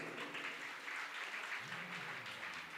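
An audience claps together at a live Shrimad Bhagwat katha in an ashram hall, a sustained dense wash of applause that holds steady at moderate volume for the whole stretch, with no speech over it.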